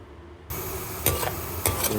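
Onions frying until brown are stirred in a pan, a sizzle that jumps up after a quiet start, with two louder scraping stirs standing out near and clear, no voices.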